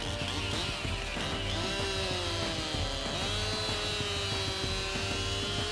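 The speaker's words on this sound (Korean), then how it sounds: "반대쪽을 베어 겨우 톱을 빼냅니다" A chainsaw cuts into a tree from the opposite side to free a saw stuck in the trunk at a windy logging site, its engine a loud, continuous, close buzz with slight pitch wavers throughout.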